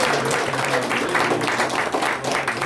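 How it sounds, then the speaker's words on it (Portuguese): A church congregation claps together in praise, a dense, loud burst of applause that fills the hall steadily for a few seconds. "Que as palmas louvem nosso Deus."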